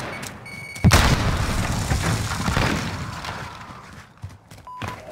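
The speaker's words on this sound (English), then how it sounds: "Throwing grenade!" A thrown grenade detonates in Call of Duty Modern Warfare team deathmatch, one sharp, loud blast followed by a rumbling tail and scattered debris and gunfire-like crackles fading over several seconds.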